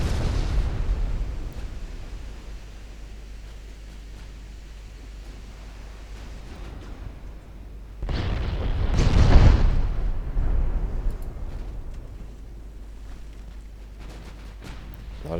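Secondary guns of a warship open fire on an enemy ship in the naval battle game Ultimate Admiral Dreadnoughts, a heavy booming burst of blasts after a low steady rumble, then fading into a rolling roar.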